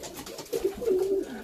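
A young pigeon chick in a dovecote gives a few soft, close coos, short and low, with no talking.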